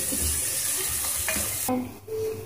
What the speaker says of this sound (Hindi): प्याज के साथ ही जो मेरे पास लहसन अदरक था वो भी मैं साथ शामिल कर दूंगी इसमें थोड़ा सा इसको हम हल्का सा ब्राउन करेंगे